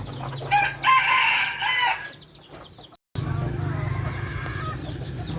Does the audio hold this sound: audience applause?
no